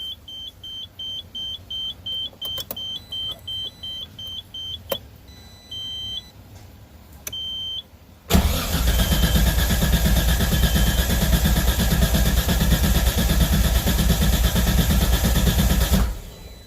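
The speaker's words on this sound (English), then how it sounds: "crank the engine for a few seconds" A Nissan R32 Skyline's RB25DE-T engine cranks and runs loudly and steadily for about eight seconds, following quieter beeping chimes and clicks.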